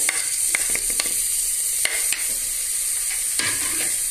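Crushed ginger, garlic and green chilli fry in a pan for a parboiled-rice biriyani, giving a bright, steady sizzle broken by repeated sharp scrapes and taps of a stirring spoon, with no talking.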